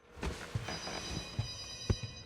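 Telephone ringing in a basement, faint, with a repeated rapid bell-like trill in several short bursts and soft thumps beneath, heard alone.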